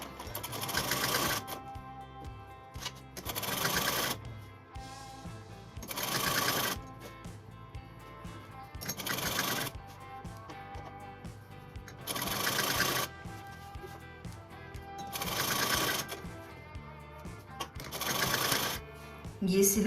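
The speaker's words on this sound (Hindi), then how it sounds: "इसको ऐसे करके ऐसे सिलेंगे ताकि इसमें से ये हमारी पाइपिंग बाहर नजर आए। सिलाई इस प्रकार से होगी।" A sewing machine stitches piping onto a kurti neckline in several loud bursts of rapid needle clatter, each lasting about a second, separated by quieter pauses.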